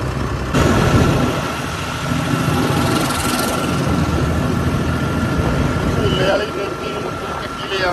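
A John Deere tractor engine idles at 1600 rpm with a steady, close mechanical drone that holds level throughout.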